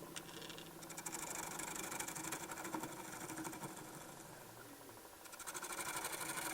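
Wood lathe turning a bowl blank as the tool roughly flattens it, a close continuous mechanical whir with chattering, uneven cutting noise throughout.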